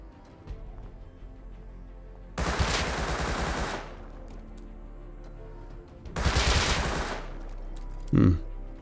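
Automated turret in the Rust survival game opens fire in two sustained rapid bursts, each lasting about a second, loud and close against a quiet background, with a brief sharp noise at the very end.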